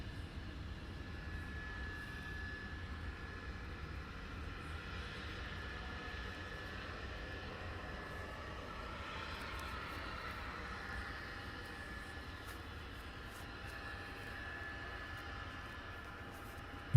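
Blackburn Buccaneer jet engines running during a fast taxi at Cotswold Airport, a steady, continuous roar with broadband rumble that holds at an even level for the whole stretch, heard from a distance with no talk.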